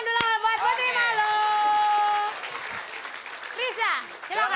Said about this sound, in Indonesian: kita kasih tepuk tangan dulu buat Putri